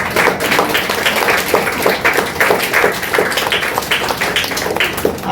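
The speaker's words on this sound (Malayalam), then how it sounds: "അമ്മമാർക്കൊരു കൈയടി കൊടുക്കാം." A large crowd claps for mothers at a talk on personal development through the arts, with dense, steady applause filling the space loudly and continuously.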